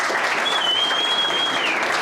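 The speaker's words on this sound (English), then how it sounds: "Let's give her a round of applause." Steady applause from an indoor crowd at a corporate celebration, dense clapping filling the whole moment with a faint whistle above it.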